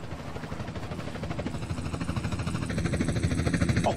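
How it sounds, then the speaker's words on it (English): A helicopter arriving in GTA San Andreas, rhythmic thudding rotor beats that grow steadily louder and closer over a few seconds. "Chopper inbound!"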